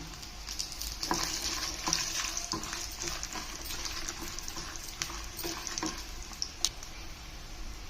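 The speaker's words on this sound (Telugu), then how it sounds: "ఆ తర్వాత ధనియాలు వేసుకుంటున్నా ఇవి ఫ్రై అయినాక ఎండుమిరపకాయలు వేస్తున్నా" Coriander seeds and dried red chilies fry in hot oil for a Telangana brinjal-tomato chutney, giving a steady close sizzle with intermittent crackles and pops and light stirring scrapes.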